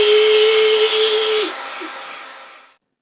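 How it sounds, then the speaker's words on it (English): A hair dryer blows with a steady whooshing roar and a thin whine, then winds down and fades out to silence. "She's drying the quills with a hairdryer."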